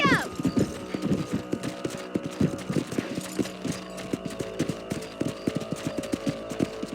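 A horse gallops in the Western video game Red Dead Redemption, its hoofbeats drumming in a fast, regular rhythm over a musical backdrop, with a brief call at the start.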